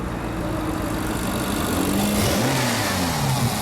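A 2015 Ferrari California T engine idles, heard up close under the hood, with a smooth, steady hum and a faint rise in revs partway through.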